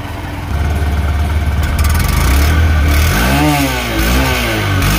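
A 2024 Honda CB Shine 125 OBD-2 motorcycle idles with a low, steady exhaust thrum, then its 125 cc engine is revved several times, its pitch sweeping up and back down in loud, close blips.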